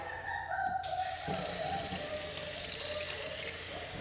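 Tap water runs steadily over a puppy during a bath, a soft continuous splashing stream with faint tonal background sounds, no one speaking.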